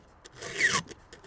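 A file rasps across a chainsaw chain tooth during sharpening, giving a single short scraping stroke that rises and falls quickly, close by and fairly quiet.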